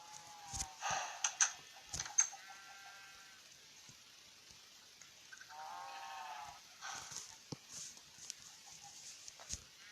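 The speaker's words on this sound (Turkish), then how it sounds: "şimdi koyunlarımızı kırpacağız" Several short sheep bleats from Minecraft come in bursts with pauses between them. A soft, steady hiss runs underneath, and there is no talking.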